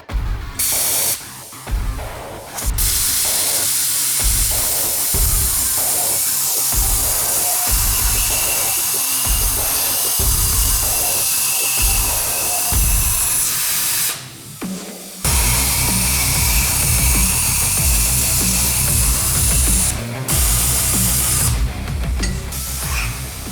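A 625 plasma cutter slices through metal in a shop with a loud, steady hiss that cuts out briefly several times before resuming, with no voices.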